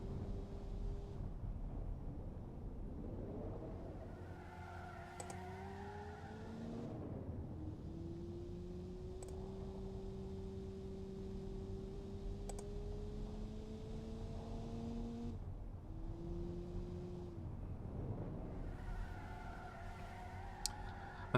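A car from the racing sim Automation drives slowly, a faint, thin engine tone rising and holding through gear changes, with a few soft clicks over a steady low background hum.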